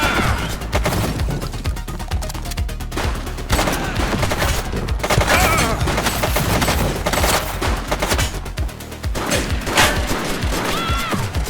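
Rapid, dense gunfire in a police film shootout, repeated sharp shots and automatic bursts firing almost without pause, loud and close, with brief shouted voices in between.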